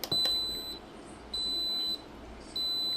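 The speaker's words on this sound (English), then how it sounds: "You heard it beep." Three steady high-pitched electronic beeps from a pressure cooker starting on medium, each lasting over half a second, evenly spaced in a quiet room after a brief click.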